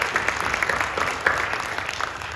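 A church congregation claps together in a steady, dense patter of many hands at moderate volume, sustained for a couple of seconds without a clear break.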